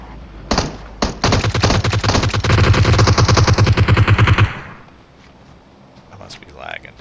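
Two single gunshots in PUBG Mobile, then a rapid automatic burst of several seconds, loud and close, that stops abruptly and leaves quiet game ambience.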